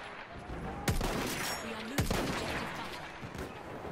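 Battlefield 1 gameplay: continuous distant gunfire crackles throughout, with two sharp, loud shots standing out about a second apart over a busy battlefield din.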